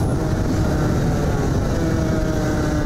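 A lightweight Aprilia RS 125 road motorcycle engine, choking and weak at low revs, gives a loud, close, continuous drone that holds steady throughout with no talking.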